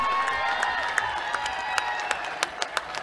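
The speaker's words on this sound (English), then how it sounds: "can we not give him a big round of applause and show our gratitude to him?" Audience applause at the inauguration ceremony of a blind cricket T20 World Cup, a steady wash of clapping from a crowd with a few sharper claps standing out, moderately loud throughout.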